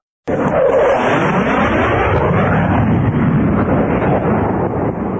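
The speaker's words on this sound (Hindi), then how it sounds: "भारतीय वायुसेना के शक्तिशाली लड़ाकू जेट और तेज गति वाले ड्रोन गरजते हुए पाकिस्तानी हवाई क्षेत्र में घुस गए।" Fighter jets and fast drones roar in an animated aerial assault over a border: a loud, continuous roaring rush that bursts in abruptly after a brief silence and holds steady throughout, with no speech.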